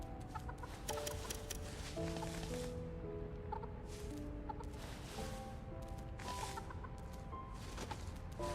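A flock of six video-game chickens, one of them blue, clucking and gobbling in repeated bursts over a busy musical game soundtrack, close and steady throughout.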